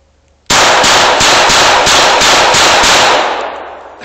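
Rapid burst of gunfire, roughly eight loud close shots in quick rhythmic succession fired at a tree outdoors, ending in a fading tail with no talking.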